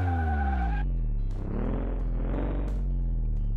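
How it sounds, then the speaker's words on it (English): A faulty car engine runs on a test track in Car Mechanic Simulator 2018, a loud continuous drone that shifts pitch as revs rise and fall, with no talk. "I'm just running this car around the test track here"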